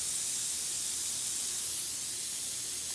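An airbrush gun sprays water in a steady, even hiss, close and continuous with no pauses or voices.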